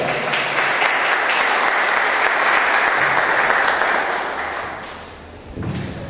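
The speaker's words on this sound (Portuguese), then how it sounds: "Uma salva de palmas" An audience bursts into sustained applause to welcome a speaker at a Umbandist political movement event, the clapping steady and dense for several seconds before thinning out near the end.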